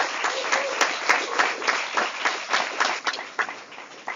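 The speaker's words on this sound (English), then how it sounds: "So big round of applause for last year." A crowd at a veterinary students' general assembly applauds, producing dense, continuous clapping that stays loud and even throughout with slight swells.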